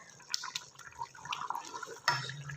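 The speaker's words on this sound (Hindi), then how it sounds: "ये देखें, माशाल्लाह से बहुत ही अच्छे से बॉयल हो चुका है पानी" Water bubbles and gurgles at a boil in a pot being readied for mutton biryani, giving close, moderately loud, irregular bubbling and splashing with a few clinks of metal, and nobody talking.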